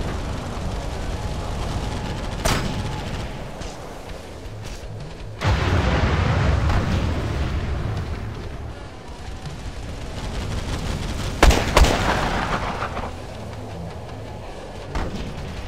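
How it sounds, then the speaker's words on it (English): Airstrike explosions rumble through a Tacticool match, a loud, continuous barrage of booms and gunfire with sharp cracks near the start and two heavy blasts later on, no voices over it. "nice airstrike"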